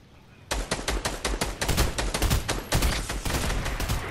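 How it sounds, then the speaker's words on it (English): Rapid video-game gunfire crackles in dense, overlapping bursts from many weapons, starting abruptly and staying loud and continuous in a chaotic exchange of shots with no voices. "These shots are going all around them."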